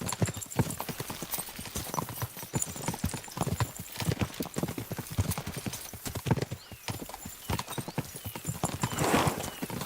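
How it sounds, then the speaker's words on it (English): Horses gallop together in the video game Kingdom Come Deliverance 2, a steady rapid clip-clop of hooves on the ground with an occasional whinny, close and continuous throughout. "We should spur the horses on."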